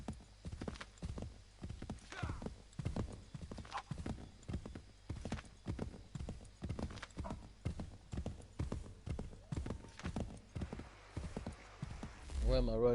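Horse hooves clip-clop in a steady rhythmic trot in the video game Assassin's Creed 3, close and clear, with occasional whinnies and a voice speaking near the end.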